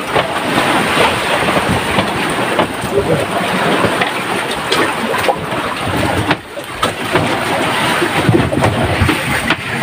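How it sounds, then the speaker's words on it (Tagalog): Steady rain keeps falling, a dense, loud hiss and patter that holds at an even level throughout with only a brief dip, no voices over it. "Medyo tila-tila ng ulan."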